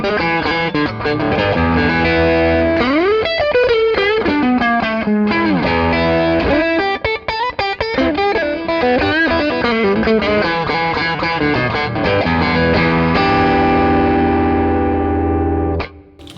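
Electric guitar played through a Clarksdale pedal, with a dense, driven, distorted tone and echoing repeats from a delay, heard loud and continuous as a busy riff for about sixteen seconds before cutting off.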